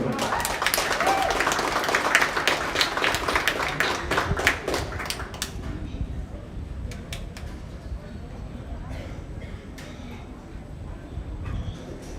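A crowd applauds exhibitors at a junior county livestock show, steady clapping filling the first half before thinning into scattered claps beneath a speaking voice and room noise.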